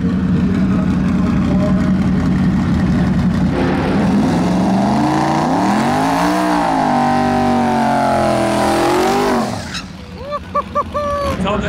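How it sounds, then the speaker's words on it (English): A drag race car at a World Cup drag racing event roars loudly and close, its pitch climbing and sweeping as it revs before cutting off sharply near the end, followed by brief, quieter tonal sounds. "Oh, fire me up. All right, Jackson, time to let her eat, brother."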